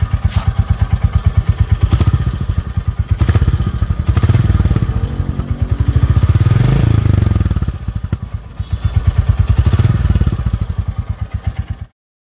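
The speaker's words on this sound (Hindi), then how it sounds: "अगर मैं इसको रेव करूँ तो रेव में जो भी आवाज़ आएगी मैं वो सुनाता हूँ।" A Royal Enfield Bullet 350 Battalion Black's exhaust thumps loudly up close, its steady single-cylinder beat swelling in several revs before cutting off abruptly.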